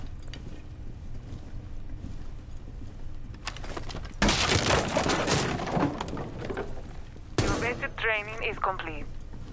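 Gunfire in the Rainbow Six Siege video game shoots through a breakable floor. Two loud bursts of shots crack over a faint game ambience, and a sweeping electronic tone follows the second burst.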